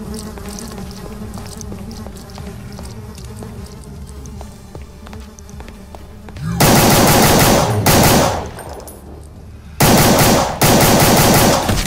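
Rapid pistol fire in the shooter game Brutal Doom SIGIL, loud bursts of repeated shots in two stretches after a quieter stretch of in-game ambience.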